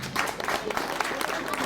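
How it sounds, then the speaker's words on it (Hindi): Audience applause for Ramleela performers being honoured by a drama troupe in Udhampur, a moderate, fairly quiet patter of clapping with irregular louder claps and some crowd murmur underneath. "जोरदार तालियां"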